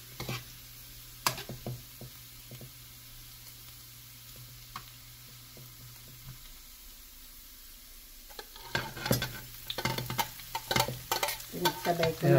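Ginger and garlic sautéing with onion in a pan, a soft low sizzle with occasional utensil taps at first, then busier stirring and scraping clatter building louder toward the end.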